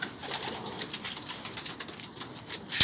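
Homing pigeons taking flight outdoors, giving faint, quick fluttering bursts of wing noise with soft pigeon coos mixed in.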